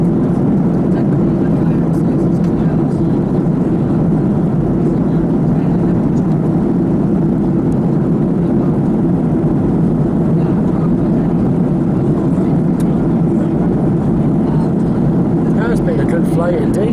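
Airliner cabin during the descent towards Rhodes, a loud, steady low engine roar filling the cabin throughout, with a voice talking over it.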